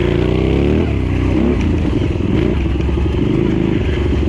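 A 1980 Honda CX500 motorcycle on a race course runs loud and close, its engine note shifting early and then settling into a steady, rough drone with some clatter throughout.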